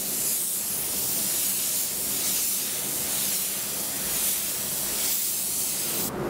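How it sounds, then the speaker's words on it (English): A 1.6 spray gun at 1 bar lays a primer coat over polyester filler, giving a steady, loud, close hiss that runs unbroken before cutting off at the end. "I would normally spray 1 coat just to isolate the polyester itself, seal off any pores"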